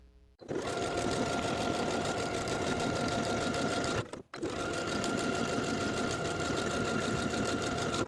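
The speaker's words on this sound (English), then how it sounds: "Sew your buttonholes and open them up." Sewing machine stitching buttonholes on a vintage skirt placket, a steady close motor whir with rapid needle chatter running almost without break, one brief stop midway, no talking.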